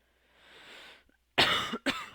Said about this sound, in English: For the cough.